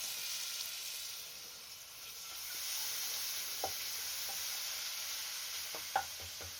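Garlic fries in a pan for chicken tikka dhansak, a steady broad sizzle close up with a few light clicks of a utensil against the pan near the end.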